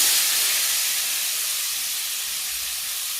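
Figs hitting hot oil in a pan give a loud, steady broadband sizzle and hiss that eases slightly over a few seconds, with no talking.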